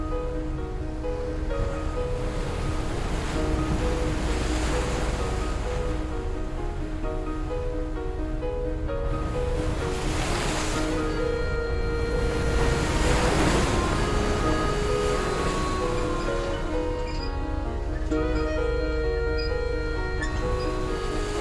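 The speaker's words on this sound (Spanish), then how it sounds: "Tú vas navegando, chac, y cada vez que entra un golpe de mar" Sea waves repeatedly strike a sailing boat underway, with surging washes and rushing water swelling and fading in slow, irregular pulses over steady wind noise. The sound is loud and close, with no talk.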